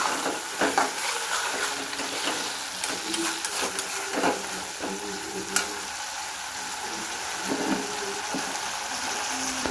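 Chilli chicken sizzling and frying in a pan with chilli sauce and vinegar, a steady hiss with occasional stirring clatter, close and continuous throughout.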